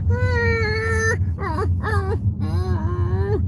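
A person imitates a dog's drawn-out yawning whine, a long high-pitched tone followed by shorter wavering whimpers, close and clear.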